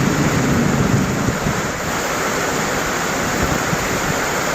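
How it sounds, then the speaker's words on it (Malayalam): Heavy rain pours in a dense, loud, unbroken roar during a thunderstorm, the low rumble of thunder blending into the steady downpour with no voices. "ഇടിമിന്നലോടുകൂടിയാണ് മഴ പെയ്തത്"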